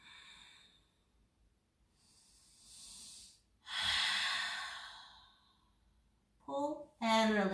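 Slow breathing during a yoga pose: soft airy inhales and exhales with a louder whooshing breath midway, then a brief voice near the end.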